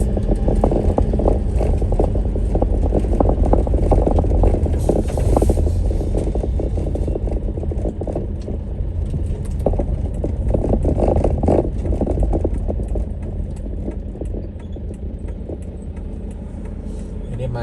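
Steady rumble of cars idling and creeping through a traffic jam on a road under widening and repair, near Candi Arjuna, with engines revving now and then and people talking over the continuous low drone.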